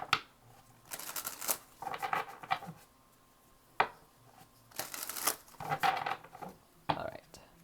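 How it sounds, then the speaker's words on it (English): Tarot cards are shuffled in several quick bursts of riffling and flicking, close and crisp, with short quiet pauses between the shuffles. "Last shuffle"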